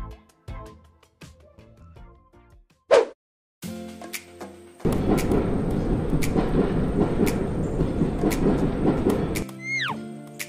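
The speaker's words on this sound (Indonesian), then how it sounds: "Railway crane." A railway crane works on a railway track amid rail maintenance machinery, giving a steady loud mechanical rumble and grinding for several seconds, with a sharp clank and a descending squeal near the end.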